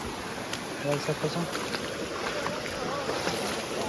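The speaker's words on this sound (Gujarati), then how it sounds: "પાણી આપણે પાર કરવાનું છે" Water flows in a stream being crossed on foot during an outing near Tulsishyam, Gujarat; a soft continuous rush sits under wind noise, with brief voices and a few splashy bursts.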